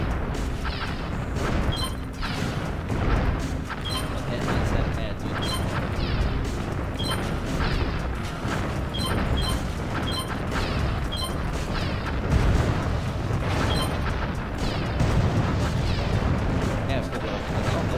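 Repeated explosions and booms from tanks being destroyed in the strategy game State of War, sharp blasts recurring in bursts over a dense, continuous battle din.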